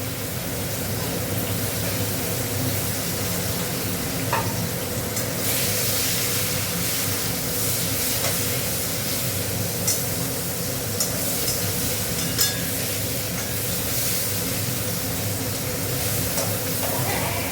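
Onions frying in a pan with cinnamon and garam masala, a continuous hissing sizzle with a few faint clicks of stirring, steady and close, no talking.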